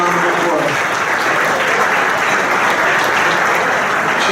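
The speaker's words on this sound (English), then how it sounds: "Let's give a round of applause." Audience at an annual valor awards luncheon applauding, loud sustained clapping from a sizable crowd filling the room without pause.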